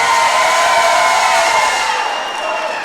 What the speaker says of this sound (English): Listen to that, the crowd Massive loves you.